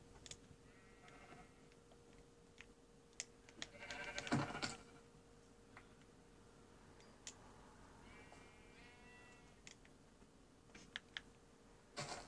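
Faint sheep bleats sound in Minecraft, a few short calls scattered among quiet game ambience and light keyboard typing.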